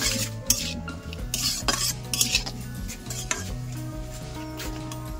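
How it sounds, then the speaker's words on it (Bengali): Potatoes sizzle in a pan while a metal spoon scrapes and clinks repeatedly as they are stirred, close up and busy. "এটা সামান্য একটু ভেজে নেবো আমি।"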